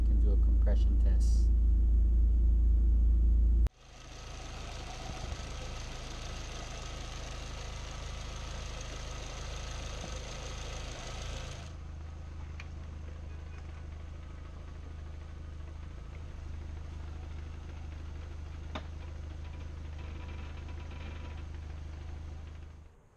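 A Volkswagen MK4 GTI turbo engine idles steadily while warming up, a continuous mid-level hum with a slight knocking texture following a loud low-frequency burst at the start.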